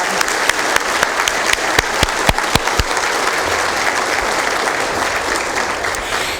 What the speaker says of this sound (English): So let's give an applause to all of our law enforcement family.